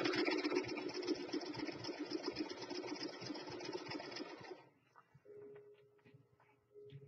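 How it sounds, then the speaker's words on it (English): A sewing machine stitches lace for a shabby chic pillow in a loud, dense continuous run for about four and a half seconds, then falls quiet apart from a faint hum and small clicks. "cut down the volume if you don't like to hear my sewing machine."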